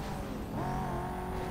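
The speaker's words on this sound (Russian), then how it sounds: "Chevrolet Corvette это довольно-таки прикольная тачка" A Chevrolet Corvette engine in the racing game Need for Speed Most Wanted drones steadily, its pitch climbing as the car accelerates partway through, with a faint hint of tire noise.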